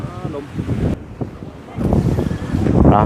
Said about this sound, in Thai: ลมแท้